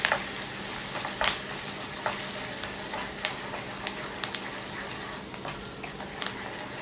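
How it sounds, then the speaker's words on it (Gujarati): Curry leaves and green chili fry in oil with roasted peanuts for a puffed-rice sev mamra snack, giving a close, continuous sizzle with scattered sharp crackles and pops throughout. "એ રીતે આપણે એને તળી લેવાના છે, શેકી લેવાના છે."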